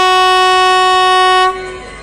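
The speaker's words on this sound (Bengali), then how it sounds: "দেখুন সঙ্গে সঙ্গে ছেড়ে দিচ্ছে ট্রেন" The Kalka-Shimla toy train sounds one loud, long horn blast of about a second and a half as it departs, then the tone cuts off and fades away.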